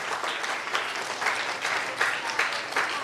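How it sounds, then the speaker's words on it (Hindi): Children applauding their teachers at a prize distribution event, a steady wash of many small hands clapping close by, with a few louder swells, continuous throughout. "बच्चों आपकी टीचर्स आ रही हैं, आप तालियां नहीं मार रहे।"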